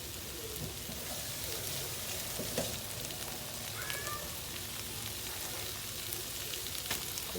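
An egg fries in a very hot pan for shrimp and chicken fried rice, giving a steady, faint crackling sizzle that runs evenly throughout with no talk.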